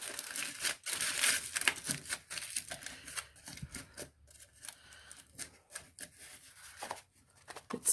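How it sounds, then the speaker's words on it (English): Aluminum foil is crumpled and squeezed into a toilet paper roll, giving close, irregular bursts of crinkling and crackling with brief pauses between handfuls. "I just crumple up some aluminum foil and squeeze it in there."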